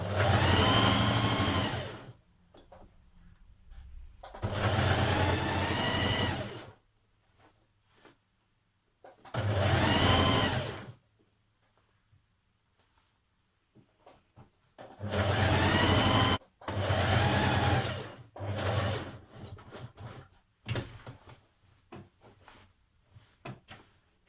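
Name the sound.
sewing machine stitching the bottom of a top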